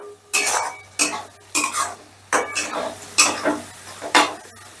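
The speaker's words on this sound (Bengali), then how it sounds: "এবার পেঁয়াজের সঙ্গে মশলাটা একটু ভালো করে কষে নেব।" Onion and spices are stirred and sautéed in a pan, with about seven rhythmic scraping strokes of a spoon against the metal over a faint sizzle, close and without talking.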